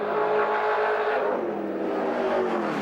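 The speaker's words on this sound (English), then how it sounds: "Working the V8 Commodore hard." A V8 Holden Commodore touring car races hard up the mountain at Bathurst, its engine roaring loud and steady at high revs through a corner, with a faint edge of tire noise and no voices.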